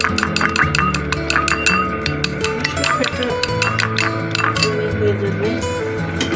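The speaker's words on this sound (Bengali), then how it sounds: "ডিমটা ভালো করে ফেটে নেব।" Eggs are beaten with spices such as chili flakes and turmeric in a bowl, giving quick, repeated clinking taps of utensil on bowl. Someone talks over it throughout.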